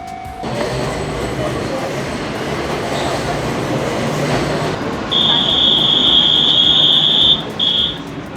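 A train stands at a railway station in Kamakura, Japan, a steady rumble under broad station noise, followed by a loud high electronic tone from about five seconds on that briefly cuts out and resumes near the end.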